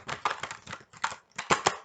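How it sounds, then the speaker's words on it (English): A deck of cards being shuffled in a series of soft, quick riffling bursts, close and quiet, with short pauses between them. "I'm going to just shuffle through my cards"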